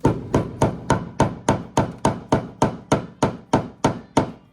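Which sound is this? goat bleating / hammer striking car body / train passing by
hammer striking car body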